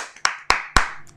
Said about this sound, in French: Et applaudissez pour que l'enfer Tremble de peur.